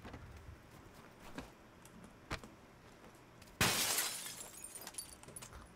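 A glass window shatters in PUBG with one sudden crash, followed by a spray of tinkling shards that dies away, after a few quiet thuds and footsteps.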